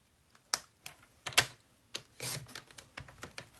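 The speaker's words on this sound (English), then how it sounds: "I find it easier to use the trimmer" Paper trimmer blade slicing through stamped card in a craft session, giving several short, sharp cutting clicks and scrapes in an uneven rhythm, close and fairly quiet with no voices.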